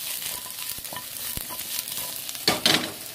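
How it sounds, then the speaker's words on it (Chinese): Luffa stir-fried in a little oil crackles and sizzles close by, with brief tossing scrapes and a louder burst of spatter near the end; no talk over it. "要炒一炒佢啊，少啲油，放啲剩瓜落去兜一兜佢"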